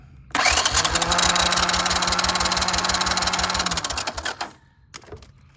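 Engine of a barn-find Honda Big Red ATC three-wheeler cranking on its starter motor for about four seconds, a fast steady mechanical chugging that winds down and stops, followed by faint clicks.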